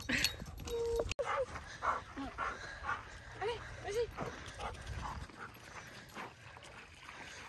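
Dogs at an outdoor canine competition event whimpering and yipping in short excited bursts, with a few barks close by, mixed with a person speaking encouragement.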